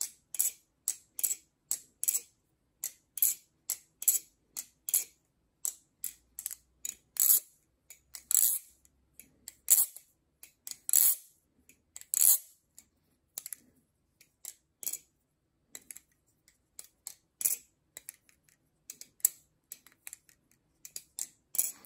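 A freshly oiled LDY Orion balisong trainer being flipped produces close, crisp metallic clicks and clacks in quick irregular bursts separated by short pauses, with no voices.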